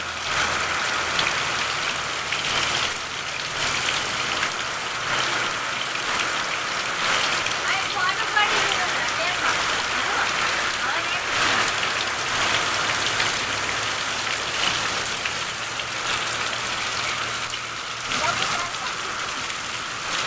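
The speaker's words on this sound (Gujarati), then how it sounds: "ફૂલ વરસાદ ચાલુ થઈ ગયો છે" Heavy rain pours steadily over a village, a dense continuous hiss of drops hitting surfaces close by, with a voice talking over it.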